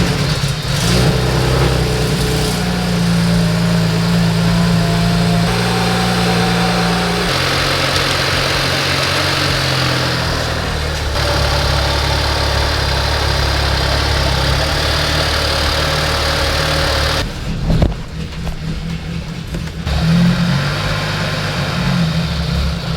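A BMW 335i with the N54 engine runs after fresh spark plugs and a valve cover gasket, a steady close engine drone holding throughout with a brief dip and rough patch near the end.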